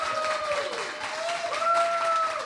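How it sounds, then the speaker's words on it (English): Live audience applause for the cast of a theatrical podcast performance, a continuous wash of clapping with faint whistles threading through it. "Give them a round of applause,"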